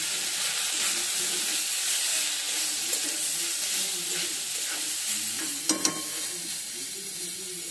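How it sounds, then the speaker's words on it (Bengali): Leafy greens fry and get stirred in a pan, a steady close sizzle with soft scraping and stirring and a couple of sharp utensil clicks near the end, no talking. "এখন দিয়ে দেবো পুরোটা শাক, পরে একটু রসুন দিয়ে ভাজি করে আবার মিশিয়ে নেব"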